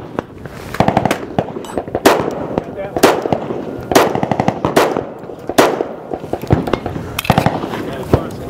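Repeated sharp pistol reports from a Ruger lightweight 1911 with an aluminum frame and titanium feed ramp at an outdoor range, spaced shots roughly every second with several quicker pairs, loud and close, some echo trailing each crack.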